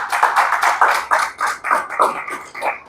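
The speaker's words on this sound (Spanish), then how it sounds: "¿Cuántos le pueden dar un aplauso al Señor?" A church congregation applauds together in a steady burst of clapping, many hands striking in a dense, fairly close rhythm that swells and dips over a few seconds with no talking.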